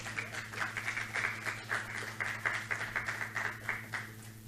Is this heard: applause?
yes